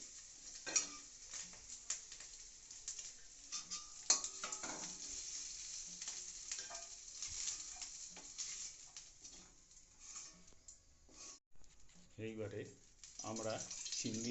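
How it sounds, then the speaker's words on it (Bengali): Chicken pieces frying in a pan for homemade chilli chicken, a steady close sizzle broken by repeated scrapes and clinks of a spatula stirring against the metal, with a voice talking over it. "চিকেনটাকে ফ্রাই করে নেওয়া হচ্ছে"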